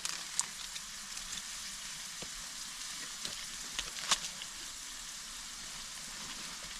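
Three tablespoons of butter sizzles quietly in a pan over a camp stove on a freezing sub-zero night, a steady soft crackle with a few sharp pops and ticks.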